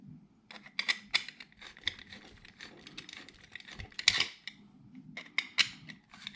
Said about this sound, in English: You see I'm making those threads as I go.